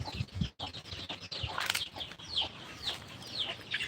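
Fighting cocks kept in a yard cluck and call steadily at close range, with a brief flutter of wings among the busy, overlapping bird sounds.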